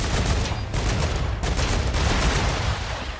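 Gunfire from a new weapon in the game StarRupture, a continuous loud rapid burst of shots that keeps going without a break.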